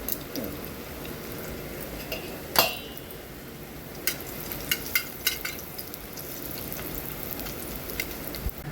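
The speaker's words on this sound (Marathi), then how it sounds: "हाडांना चिकटपणा येतो म्हणून हे डिंक मी तळून टाकत आहे।" Edible gum frying in hot ghee, a steady soft sizzle throughout with one sharp crackle burst and a few light clinks of a utensil against the pan.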